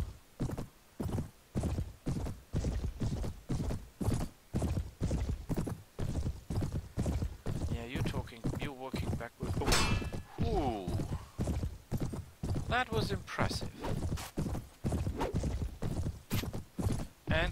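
Rhythmic horse hoofbeats pound steadily in the Mount & Blade Prophesy of Pendor game, a fast repeating clip-clop gallop close and loud throughout, with a brief whinny and battle clatter mixed in.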